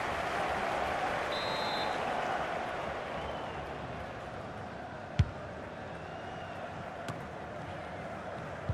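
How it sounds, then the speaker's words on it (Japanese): Steady roar of a stadium crowd cheering in FIFA 19 as a player is substituted during a J1 League match between Kawasaki Frontale and Gamba Osaka, a dense continuous wash with a couple of sharp knocks. "ひときわ大きな歓声を受けていますね"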